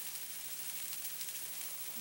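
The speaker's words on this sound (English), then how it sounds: "I'm sure you can hear the little sizzle" Chicken milanese sizzling in a pan, a soft continuous frying hiss with faint crackles, steady and fairly quiet, without voices.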